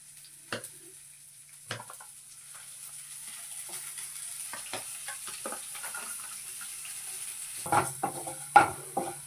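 Urad dal, garlic cloves and ginger fry in a pan with a faint, steady sizzle, broken by occasional clicks of a stirring spoon and a few louder clanks near the end.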